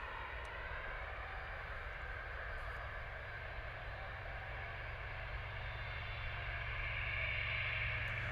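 A Ryanair airliner begins taxiing at Bristol airport. Its jet engines give off a steady, distant whine and low rumble that swells slightly toward the end.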